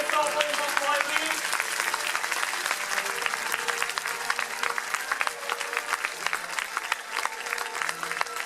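An audience at a Dojo de la Sèvre martial arts gala applauds loudly and steadily as a crowd, while a voice talks over the clapping.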